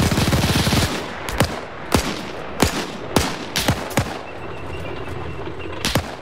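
MG42 machine gun fire in a video game: after a short noisy burst come several sharp, spaced shots and cracks, loud and close, with no voices over them.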